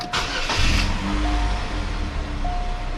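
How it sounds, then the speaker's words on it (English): A car engine cranks and catches after a short starter whir, then settles into a steady idle, close and fairly loud with no talking. "We'll go ahead and start the car, get all the fluids circulating and everything"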